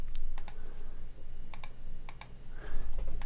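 Sharp mouse clicks from a zoom tool, in small pairs and bursts spaced over a few seconds, close and fairly crisp over a steady low room hum.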